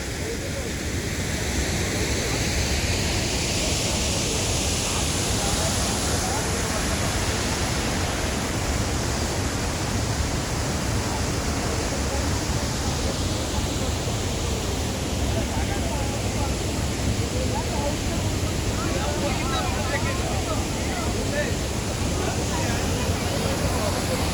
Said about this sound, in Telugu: మీరు చూడొచ్చు ఫాల్ ఎంత బాగుందో